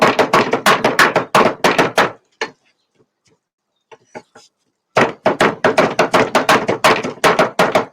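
Sharp knife chopping finely chopped beef on a board, rapid rhythmic close knocks in two bursts separated by a quiet pause with a few scattered taps.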